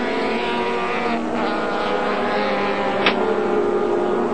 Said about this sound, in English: Engine sounds good as he exits